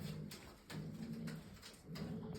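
Pigeons coo softly in repeated low, throaty phrases, with steady background noise and faint rustling throughout.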